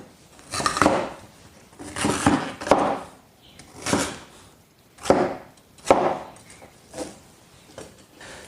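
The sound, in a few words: chopping winter bamboo shoots and lotus root into pieces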